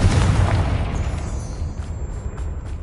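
Confringo spell explosion in Hogwarts Legacy, a loud booming blast that rolls into a long rumbling decay, with faint ticking pops as it dies away.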